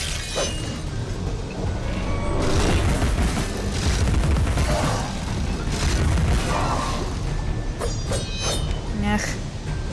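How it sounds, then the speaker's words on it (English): Gunfire in the video game Alice: Madness Returns: dense, loud, rapid-fire shots and booming blasts rolling on almost without pause for the whole stretch, with heavy low rumble underneath. "I guess I'll just shoot at all of you"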